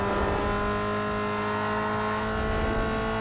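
Engine of a street-tuned car held at full throttle in Need for Speed: Underground 2, a steady loud drone with sustained harmonic whine and no break, no talking over it.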